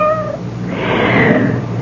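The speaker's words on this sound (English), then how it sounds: "Very special cat." A single cat meows close and clearly in an old radio drama, one drawn-out, slightly wavering call lasting about a second.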